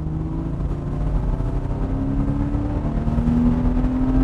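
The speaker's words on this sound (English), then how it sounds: "you hear more of that wonderful six-cylinder engine behind us" Flat-six engine of a 2007 Porsche 911 Targa 4 cruising on the highway, a steady loud drone with a tone that rises gradually as it pulls, heard from inside the car with no talk.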